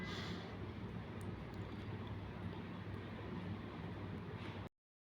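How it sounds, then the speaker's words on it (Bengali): A continuous broadband engine roar, like a helicopter passing overhead, steady and fairly loud before cutting off abruptly near the end. "মাথার উপর দিয়ে ভো করে একটা হেলিকপ্টার চলে আসলো"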